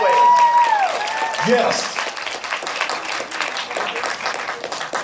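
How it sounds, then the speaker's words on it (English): An audience clapping hands on request at a community event in Savannah, Georgia, dense applause mixed with a crowd's cheering and an amplified voice briefly over it, fading slightly. "Could y'all clap your hands one more time?"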